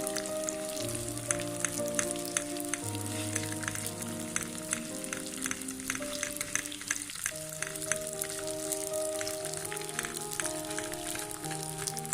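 Semolina sizzles and crackles as it fries in ghee in a wok, a continuous close frying hiss with soft music playing underneath.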